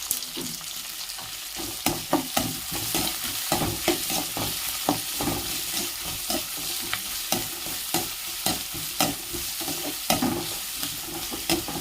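Tomatoes and onions frying with salt in a pan for a country chicken fry, a steady hiss of sizzling broken by regular scraping stirs of a spatula, close and even, no speech.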